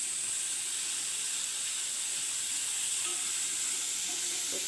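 Food sautés in a pan with salt while a chicken cutlet is being made. A steady, even sizzle and hiss carries on without a break, with a few faint stirring scrapes.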